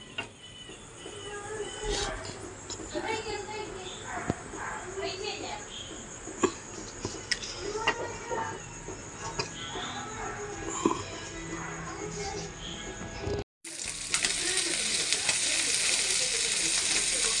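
Fish fries in hot coconut oil in a pan, a constant close sizzle dotted with small pops and crackles. A voice talks intermittently. Near the end the hiss swells into a louder, brighter spitting rush.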